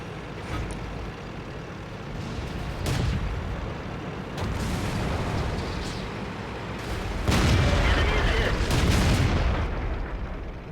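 World of Tanks battle with a 90mm tank gun and other tank cannons firing, heavy booms landing at intervals over a constant rumbling engine bed, loud and close with no talking.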